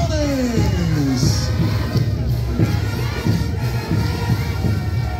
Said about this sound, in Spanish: Los aplausos, señoras y señores